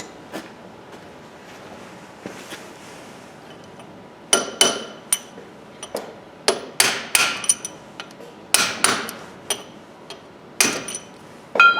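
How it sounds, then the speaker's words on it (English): Sharp metallic taps of a hammer on a punch against a bearing during Case IH MFWD axle reassembly strike in quick irregular bursts, some ringing briefly, with short pauses between clusters; close and fairly loud. "Do a little hammer and punch action. Give her a few little taps."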